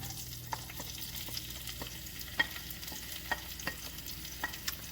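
Onions sizzle and fry in a pan on a home stove, a steady crackling hiss with occasional sharp pops and scraping stirs spaced through, fairly quiet and close, no voices.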